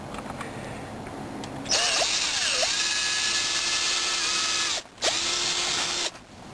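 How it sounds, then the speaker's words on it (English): Two rivets holding a motorhome light ballast in a 1975 Apollo motorhome are drilled out, a loud close whining drill spinning up, running steadily with pitch changes, briefly stopping, then continuing. "we've drilled out the 2 rivets that hold the ballast in place"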